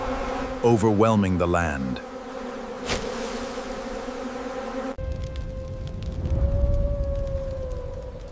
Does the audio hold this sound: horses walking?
no